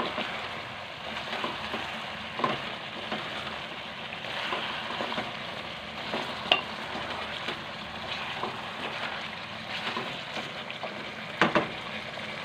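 Spices and tomatoes stir-fry in a pan with a soft continuous sizzle, fairly faint and steady, broken by occasional scraping clicks of the spoon against the pan.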